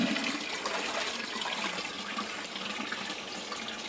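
Watering plants in a greenhouse during a heatwave: a steady hiss of spraying water runs loud and continuous throughout, with no talk.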